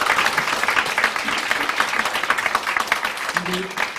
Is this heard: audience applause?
yes